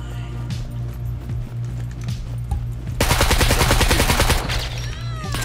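Automatic gunfire in the survival game Scum rattles out in a rapid, loud burst of close shots lasting a couple of seconds over steady game ambience, followed by quieter pinging tails.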